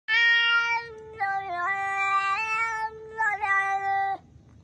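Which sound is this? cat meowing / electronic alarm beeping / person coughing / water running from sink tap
cat meowing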